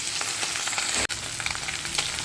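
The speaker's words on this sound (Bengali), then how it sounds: "এই মাছগুলো তুলে আমি একই রকমভাবে এই মাছগুলোকে ভেজে নেবো" Fish pieces frying in oil, a dense, continuous close sizzle with a brief dip partway through, no voices.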